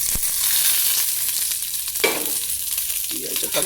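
Food frying in a pan until golden, a steady close sizzle that holds throughout, with brief stirring scrapes rising over it near the middle and end.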